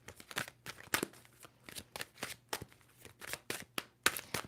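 A deck of tarot cards being shuffled by hand in quick, repeated riffling bursts, crisp papery flutters and soft taps in an uneven rhythm, close up and without speech.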